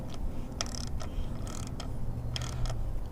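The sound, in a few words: wrench cranking and torquing bolts on Harley air cleaner install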